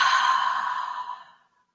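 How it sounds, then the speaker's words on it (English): A single deep breath released in a long, full exhale, close and breathy, fading away after about a second and a half in an otherwise quiet room. "Just take a deep breath in. And then exhale fully."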